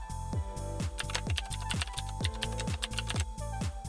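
Rapid typing on a computer keyboard, a steady run of crisp key clicks about every quarter second, close and clear over a constant background hum, with no voices.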